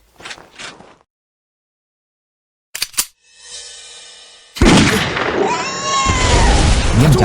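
A gunshot fired at a wild animal cracks out loud and close, followed by a burst of sustained loud noise, after a short faint sound and a stretch of silence.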